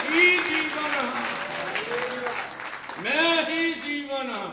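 Congregation at a Sunday church meeting clapping steadily, with a voice singing or speaking over the clapping throughout and the clapping swelling again near the end.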